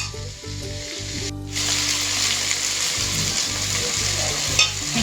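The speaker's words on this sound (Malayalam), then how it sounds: "ഇത് സവാളയും തക്കാളിയും എല്ലാം നല്ലതുപോലെ വഴണ്ടിട്ടുണ്ട്." Onions and tomatoes fry in a pan for a kakka (clam) curry, giving a steady, close sizzle with a brief scrape of stirring partway through.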